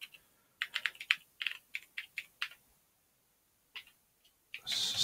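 Clicky keystrokes on a computer keyboard while editing a Linux name server config, a quick burst of a dozen taps followed by a pause, then a few isolated presses and a rising hiss at the end.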